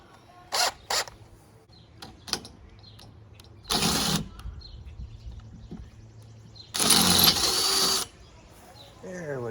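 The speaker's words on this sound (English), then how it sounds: "I'm gonna drill another hole." Power drill boring a hole into an old wooden cart being rebuilt into a Model T replica truck, in two loud sustained bursts with short clicks and clatter between, close by.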